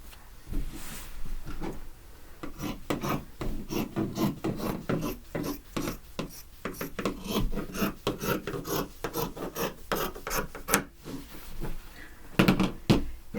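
Fabric being trimmed on a quilt, a run of rapid rasping, scraping cuts repeating steadily at close range for several seconds, with a brief pause before a final burst of cutting strokes.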